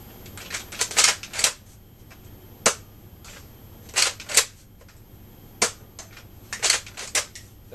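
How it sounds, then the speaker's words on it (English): A Nerf N-Strike Elite Retaliator blaster with its barrel attachment removed fires streamline darts, giving sharp, close clacks and pops. They come in small bunches and single shots with short pauses in between, and nobody talks. "Now it's time to put the barrel attachment off and fire these next 3 streamlines."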